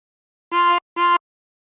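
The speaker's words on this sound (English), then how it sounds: "Breathe in through 6 twice." Two drawn notes on hole 6 of a chromatic harmonica, equal in length and evenly spaced, a bright reedy tone heard close and alone.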